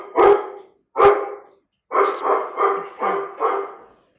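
A dog gives two sharp, loud barks followed by a quick run of four shorter barks, close and clear against silence.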